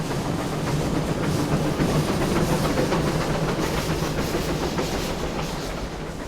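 Puffing Billy, an old Australian steam train, rumbles steadily along its rails with a continuous broad roar, faint rhythmic clatter and hiss, loud and close throughout without voices.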